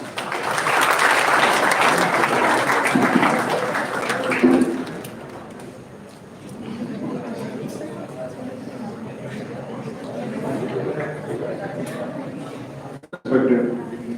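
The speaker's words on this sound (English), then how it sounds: "with a warm round of applause" A seminar audience applauds after a speaker is introduced, a dense, steady round of clapping filling the room for several seconds, then easing off and continuing more thinly, with a short burst again near the end.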